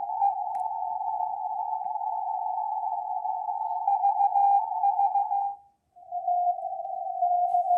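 Kenwood TS-890 radio receiver putting out a steady single tone, like a carrier or CW note, that holds for over five seconds, drops out briefly, then resumes slightly lower, clear and continuous with no voices.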